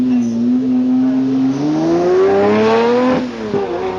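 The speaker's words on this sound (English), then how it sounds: "Here a V12 Lamborghini coming" A V12 Lamborghini supercar accelerates and revs hard, its engine note climbing steadily and loud and close throughout, with a brief dip and surge near the end as it passes.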